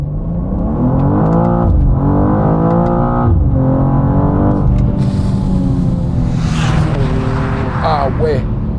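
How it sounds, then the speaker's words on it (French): A new BMW M2 with 460 horsepower and its exhaust valves open accelerates hard, its engine rising through several gear changes loud and close, then turning into a rushing roar. "j'ai les clapets d'échappement qui sont ouverts, une boîte de vitesse plus réactive et on va faire une petite accélération"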